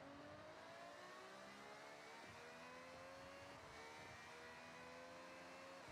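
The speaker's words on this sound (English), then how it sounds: "Yeah, this sounds like a V10." A V10 car engine in the Forza Horizon racing game revs and pulls hard, pitch climbing in smooth sweeps, close and sustained with no talking.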